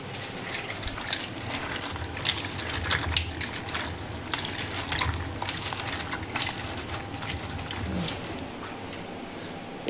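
Soaked almonds and other dry fruits are rinsed in water, giving a faint, continuous sloshing and trickling with small splashes throughout.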